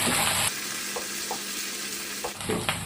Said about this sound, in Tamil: கருவேப்பிலையும் பச்சை மிளகாயும் எண்ணெயில வதங்கி